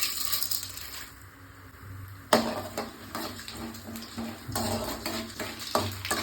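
Mustard seeds, cumin, chana dal and urad dal spluttering in two spoons of hot oil for Andhra pori upma: irregular crackling pops with a sharp metallic clank midway, no voices.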